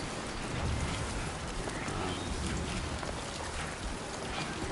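Steady, heavy video-game rainfall in Death Stranding 2 pattering across surfaces, a dense continuous hiss with no pauses and no talking.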